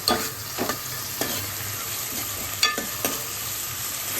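Chicken pieces sizzling steadily in hot oil for a curry, with a spoon or spatula stirring the pan in a few scraping strokes over the constant frying hiss.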